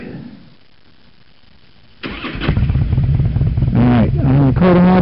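A motorcycle engine starts up abruptly, then settles into a steady, loud mid-pitched run with some revving, close by.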